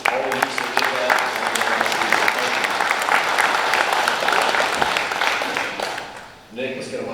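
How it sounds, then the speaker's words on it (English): A banquet-hall audience at the SaltCity Racing 2024 awards banquet at the 1861 Club applauds steadily and loudly, with voices mixed in; the clapping fades briefly near the end, then resumes. "let's give them again a round of applause for coming"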